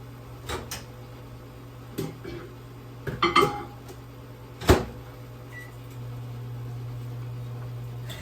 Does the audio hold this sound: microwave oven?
yes